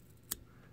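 A single quick snip of scissors trimming fly-tying material to a taper while tying a Minnesota crawdad fly, close and crisp, alone in a quiet room.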